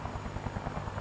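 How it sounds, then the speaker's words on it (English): A Mi-2 scout helicopter in a tank video game whirs with a rapid, even rotor thump and turbine whine, steady and fairly close. "Mi-2 scout helicopter, so they threw one of those in here"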